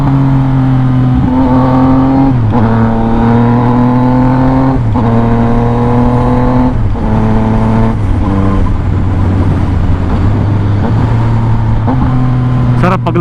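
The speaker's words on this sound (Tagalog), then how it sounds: "Ganda ng tunog pagka nag-rev match ka." A 2021 Yamaha XSR 900 motorcycle engine sounds up close on the road. The steady, loud drone is broken by several quick rev-matching blips at each gear shift, and the pitch drops and climbs around them.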